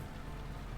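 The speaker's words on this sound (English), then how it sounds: "Through the window, the darkness of the rainy night could be seen" Steady rain hisses and patters on a rainy night, a dense, even wash of drops with no breaks, low and constant throughout, with no voices present.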